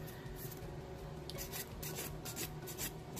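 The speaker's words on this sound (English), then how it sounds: "buff the shine off. Essentially you're just breaking the seal of that gel." A 180/100 grit nail file buffs the shine off cured gel polish, a faint, steady close-up rasping rub with soft rhythmic strokes, heard alone in a quiet room.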